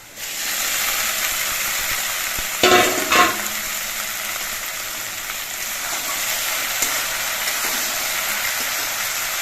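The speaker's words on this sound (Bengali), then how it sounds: "এবার ঢেঁড়স দিয়ে আরও কিছুক্ষণ ভেজে নিতে হবে ঢেঁড়সটা দিয়ে আমি আলুর সঙ্গে নেড়ে চেড়ে মিশিয়ে নিয়েছি" Okra and potatoes frying in a pan: a continuous hissing sizzle throughout, broken near the start by a couple of brief louder scrapes as the vegetables are stirred, with no talk.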